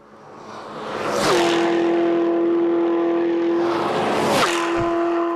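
Two cars roar past in turn at around 300 km/h on the Nardo high-speed test track, each a loud rushing whoosh with a steady high engine tone that drops as it passes close by.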